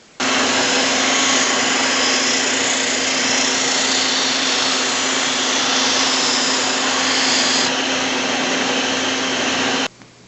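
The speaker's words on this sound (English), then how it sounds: "So I'm going to use my oscillating spindle sander with a big drum on it." A woodworker's oscillating spindle sander with a big drum, shaping bent wooden laminations, runs steadily alongside a heavy dust-collection vacuum, giving a loud continuous whir that holds for about nine seconds and then cuts off.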